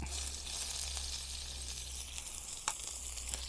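Mustard seeds, fennel and onion fry in sesame oil for a fish curry, giving a faint, steady hiss over a low background hum, with one brief crackle near the end.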